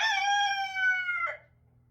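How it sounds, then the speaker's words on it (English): A rooster crows once, loud and close, in a long drawn-out call that breaks off with a rough falling end, followed by quiet. "we really wish we didn't hear the roosters"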